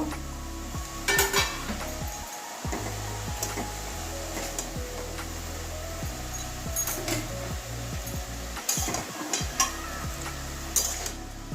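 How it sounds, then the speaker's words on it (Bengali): Salted cabbage stirred in a pan, a spoon scraping and clattering against the metal in irregular strokes over a steady low sizzle and hum, fairly close and alone without talk. "এবারে একটুখানি নাড়িয়ে নেব"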